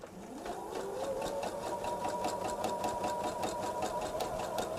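Sewing machine stitching across quilt fabric, a steady, fast mechanical whir with rapid even needle clatter that runs continuously at close range with no talk.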